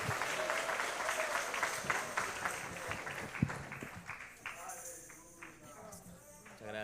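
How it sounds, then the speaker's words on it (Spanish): Applause from a church congregation at a Quechua-Spanish evening service, a dense crowd clapping that rises loud at first and then thins out, with voices speaking through it. "Palmas para Cristo."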